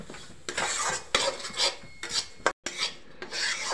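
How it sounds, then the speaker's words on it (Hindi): Semolina being stirred and roasted in hot oil in a pan over a medium flame, a steady close scraping and rasping of a spoon against the pan in repeated strokes, with no talking. "हम इसमें एक कटोरी सूजी डाल देंगे और मीडियम फ्लेम पे हमें इसे आराम से हल्का सुनहरा होने तक भून लेना है"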